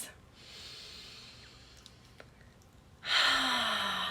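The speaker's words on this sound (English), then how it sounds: "Breathing deep into the lower belly" Slow deep breathing during a guided relaxation practice: a soft, airy exhale-like hiss, then a louder, fuller breath near the end, close and alone with no talking.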